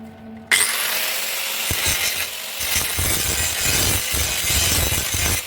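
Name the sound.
grinding metal on a classic car door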